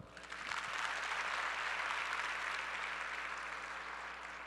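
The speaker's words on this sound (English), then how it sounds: "Give him a round of applause." A conference crowd breaks into applause, clapping rising quickly after a moment and holding steady and dense, softening slightly toward the end.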